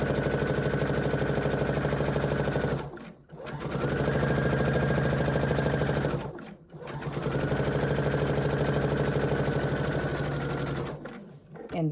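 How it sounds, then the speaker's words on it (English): A home sewing machine stitches quilting fabric along a marked line for placemats, running in a steady fast whir. It stops briefly twice, then starts again, and is heard close up with no talk. "And then just sew right on that line."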